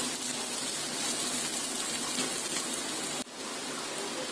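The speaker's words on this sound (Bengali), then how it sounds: "তেলটা গরম হয়ে গেছে, এখন দিয়ে দিচ্ছি আধা কাপ পেঁয়াজ কুচি।" Chopped onions, half a cup, drop into hot oil and fry with a steady, dense sizzle that hisses on without a break, briefly dipping near the end.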